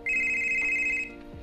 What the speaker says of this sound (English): a ringing noise came from Rainbow Dash's